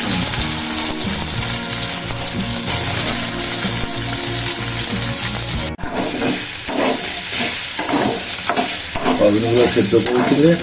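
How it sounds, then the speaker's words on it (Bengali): Soybean chunks fry in a pan, giving a steady close sizzle with scraping stirs throughout. Partway through there is a brief dropout, and busier clattering stirs follow. There is no talk. "সোয়াবিন ভেজে নিলাম সয়াবিনটা"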